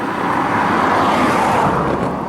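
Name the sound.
car passing by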